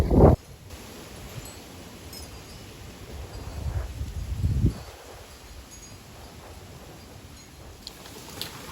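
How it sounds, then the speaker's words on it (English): Very strong wind gusting outdoors during a windstorm, roaring and buffeting the microphone with a loud burst at the start and another swell midway, rustling constantly throughout. "let's see this very strong wind right here because this is really windy right here"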